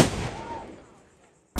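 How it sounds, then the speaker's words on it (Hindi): A single sharp burst of a small firecracker in a mountain village in Uttarakhand, loud and close, decaying into a brief hissing tail before quiet, with another pop starting at the end. "अब ये छुटके पटाखे"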